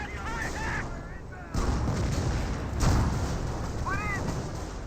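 Gunfire and artillery booms from units fighting in a Company of Heroes battle, steady rumbling fire with heavier blasts and brief whistling shells overhead.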